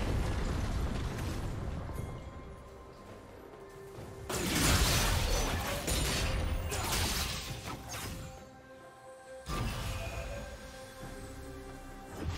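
A turret destroyed in a League of Legends match crumbles in a loud, crashing burst of explosive rumble, with a second heavy boom following a few seconds later amid steady game noise.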